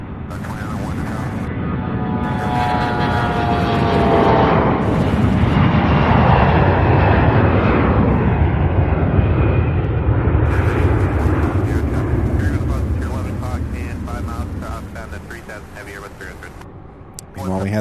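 A UPS MD-11 cargo jet landing on runway 17 left at Louisville's UPS Worldport, a loud, sustained jet roar that swells and fades over the runway, with a voice talking over it.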